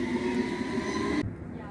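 A train rumbles steadily with a sustained tonal hum near East Putney, London, continuous and fairly close, fading slightly toward the end.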